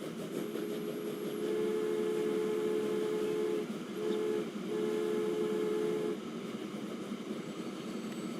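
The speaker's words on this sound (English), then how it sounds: "Oh, I'm going to go on a train ride." A train in the Transport Fever 2 video game rolls along with a steady, continuous rumble, overlaid by sustained horn-like tones that sound in two long stretches with a short break between, close and even in level.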